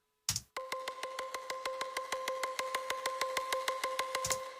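Short, evenly spaced synth stabs repeat in a fast steady rhythm, bright and airy, each note clipped off quickly, playing alone.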